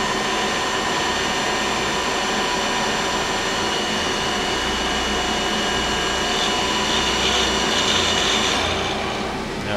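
The spindle of a Feeler HT 30Y CNC turning center spins up, a loud steady mechanical whine with a dense hum that swells slightly near the end.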